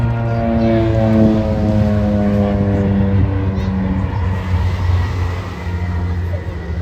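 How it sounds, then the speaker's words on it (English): An OV-10 Bronco with twin Garrett turboprops flies at the English Riviera Airshow 2024. It makes a loud, steady engine drone with layered humming tones, and an announcer talks over it. "Twin Garrett power turbo prop aircraft"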